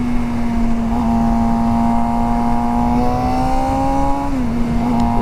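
A sport bike cruising on the highway, its steady engine drone holding an even pitch with rushing wind noise throughout, loud and close with no talking.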